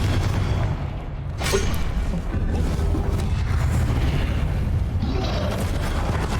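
Confringo fire spell explosions in the Hogwarts Legacy video game, a dense, continuous run of loud booms and blasts with rumbling low end and sharp bursts throughout, amid busy combat noise.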